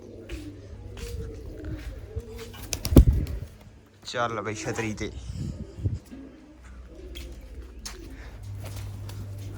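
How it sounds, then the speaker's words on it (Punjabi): Pigeons coo in low, soft burbles around a rooftop perch while someone talks over them, with a brief burst of busier sound midway and a steady hum toward the end. "ਅੱਜ ਆਪਾਂ ਛੱਡਾਂਗੇ ਨਵਾਂ ਕਬੂਤਰ"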